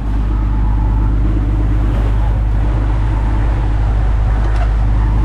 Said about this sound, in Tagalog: Yung tunog ng makina sa tambutso pa lang oh